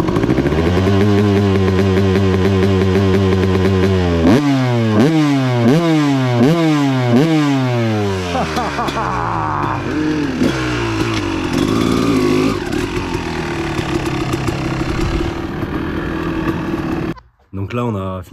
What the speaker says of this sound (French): Ah il chante quand même le deux temps hein.